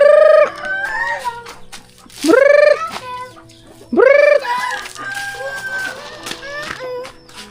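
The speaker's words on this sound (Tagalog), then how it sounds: "Ayan, ayan yung mga manok namin dito." Backyard chickens cluck and crow loudly and close by, with several drawn-out rooster crows rising and falling among busy clucking, while a person speaks briefly in the background.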